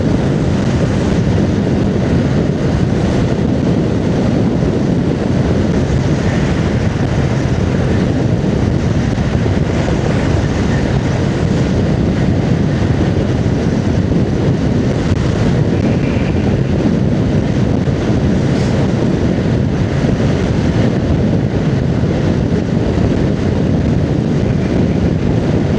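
Wind roars steadily and loudly past the rider of a 2025 Honda Rebel 500 ABS motorcycle on the road, a dense continuous rush that buries any engine sound, with no voices.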